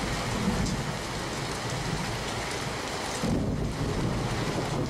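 Heavy downpour over Navsari city, a continuous roaring wash of rain mixed with wind buffeting the microphone, swelling slightly louder near the end, with no talk.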